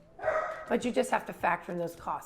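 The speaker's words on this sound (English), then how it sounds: "Sorry about the dog." A household dog barks several times in the background, its yaps overlapping steady talk from a person speaking nearby.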